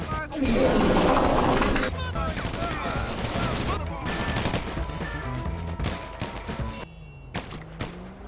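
Rapid gunfire rattles through a Grand Theft Auto shootout, sharp overlapping shots and bursts crowding the first seconds, then thinning into scattered cracks alongside game voices and effects.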